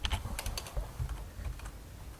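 Code typed on a computer keyboard, a quick, uneven run of close, light key clicks with brief pauses, heard alone.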